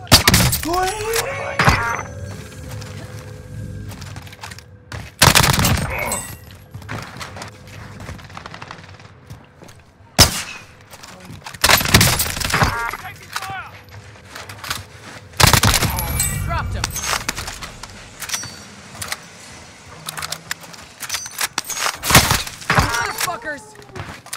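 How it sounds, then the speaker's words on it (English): Gunfire in a first-person shooter video game, loud sharp bursts and single cracks spaced irregularly across the stretch, with a player's voice talking between the shots. "I'm taking fire!"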